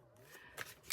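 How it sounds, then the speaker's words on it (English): Playing cards being shuffled during a tarot-style reading, two short papery riffling bursts close by over a quiet room, with no one speaking. "do one more shuffle"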